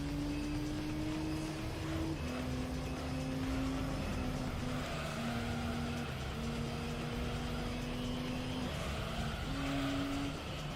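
Race cars from Gran Turismo 3 on PS2, including a Pagani Zonda, with steady engine drone and shifting engine pitch held at a constant moderate level and no talking.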